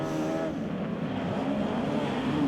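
Speedway race cars roar around the Ruapuna Speedway dirt oval at night in a loud, continuous engine drone with shifting pitch as cars pass close by.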